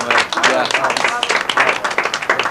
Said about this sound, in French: Je voudrais que tous ces applaudissements aillent au véritable artisan de cette réussite, Frank Kenley.